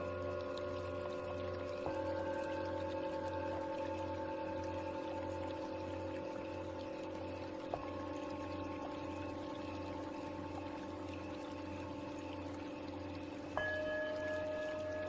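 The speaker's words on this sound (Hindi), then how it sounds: "जो साथ में पानी का साउंड है" Calm meditation music with soft sustained drone tones that shift pitch every few seconds. A steady wash of flowing water runs beneath it, quiet and continuous, with no voices.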